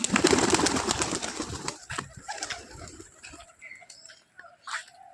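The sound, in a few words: pigeons landing and cooing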